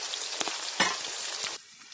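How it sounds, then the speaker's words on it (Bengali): Chopped green chillies fry in hot oil in a pan, giving a steady, close crackling sizzle with small pops. The sizzle drops abruptly near the end. No voices are heard. "এর মধ্যে না আমি কেটে রাখা লঙ্কাগুলো দিয়ে দেবো"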